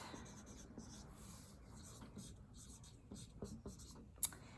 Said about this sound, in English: you can write your name and date